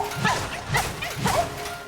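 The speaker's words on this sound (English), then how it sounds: "It's a dog." A dog barks three times at an even pace in the Hollow Knight: Silksong video game, moderately loud with a soft background tone.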